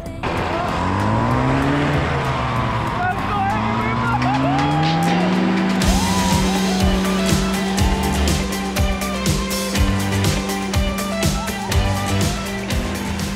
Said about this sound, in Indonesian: Pertama kalinya gue cobain para motor ini melayang-layang di udara gitu